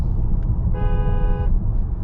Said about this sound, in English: Could you honk the horn real quick, please?